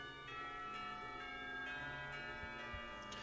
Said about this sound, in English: The school bell rings out, reminding us that time isn't going to stand still.